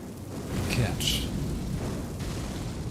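A broad, rumbling blast from an explosive stone dynamite in a video game, a dense roaring burst that swells early and then trails into a sustained noisy wash, with some talk underneath.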